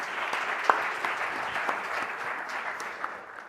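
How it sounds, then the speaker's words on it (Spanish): Sustained audience applause at a medical talk on AI and diagnostic imaging at a Valencia university, a dense even patter of many hands clapping together, fairly loud and steady before tapering slightly at the end. "Os pido un fuerte aplauso para él"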